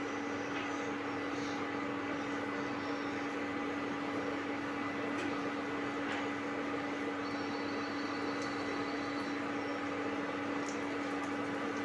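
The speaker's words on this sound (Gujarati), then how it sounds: "તેલ ગરમ થઈ ગયું છે, એની અંદર આપણે વડા એડ કરીશું।" Bajra (millet) vadas frying in hot oil over a low gas flame, giving a steady, dense sizzle and crackle that runs continuously throughout at moderate level, with a constant hum underneath.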